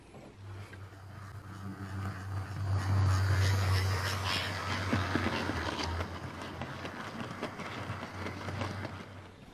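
A model Stroudley A1/X 0-6-0T Terrier tank locomotive in Southern green livery runs on a model railway track, making a steady rumbling motor hum that swells louder midway and then eases back.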